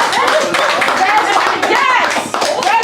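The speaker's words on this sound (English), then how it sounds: "So please let's clap for them." Staff audience at a debate clapping steadily for a team after its score is announced, a dense continuous patter with a voice calling out over the applause.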